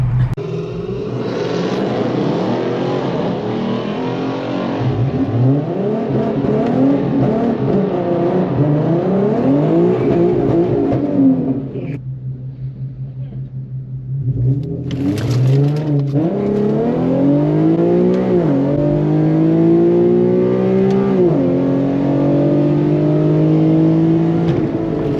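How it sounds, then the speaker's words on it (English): A tuned Infiniti Q50 races a Nissan 370Z at a drag track, loud engines revving hard and climbing through gear shifts, briefly easing off before surging again in sustained roaring acceleration. "Alright guys, so it looks like I am gonna end up racing the 370."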